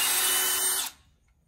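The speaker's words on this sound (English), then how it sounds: "I'm gonna put it into the hole, and then I'm gonna drill all the way to this mark here" Power drill boring a hole to a 3/4 inch depth mark, a steady loud whine with broadband grinding that cuts off abruptly just before the end, leaving near silence.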